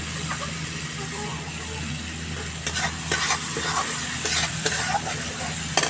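Egg and brinjal curry with ground spices stirred in a pan, a steady sizzle throughout with scraping strokes of the spoon growing more frequent in the second half, heard up close with no talking.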